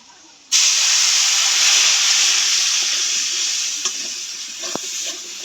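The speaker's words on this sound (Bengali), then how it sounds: "ধনিয়ার গুঁড়া এবার একটু জল দিয়ে দেবো।" Coriander powder spices sizzle loudly in a pan as water hits them, a sudden burst of steamy hiss that holds steady and slowly eases, with a faint clink near the end.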